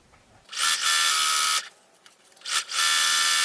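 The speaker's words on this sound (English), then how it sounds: "I will stitch again to the right of that first stitching, about 1/2 inch" Sewing machine stitching a quilt block, two loud close bursts of fast motor whirring separated by a short pause.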